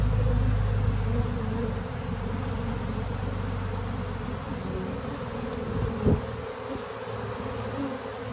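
A swarm of honeybees from a strong, aggressive hive pours out in a dense, steady buzz that fills the air close by, with a brief louder knock partway through.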